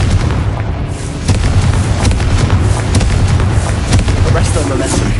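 Confringo fire spell blasting in Hogwarts Legacy on PS5, a dense run of booming explosive bursts over continuous loud game sound and music, with talk mixed in.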